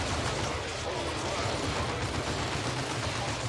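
Missiles fired in Dawn of War 2 make a steady, dense roar of launches and blasts, a continuous rumbling barrage with no clear gaps, moderately loud throughout.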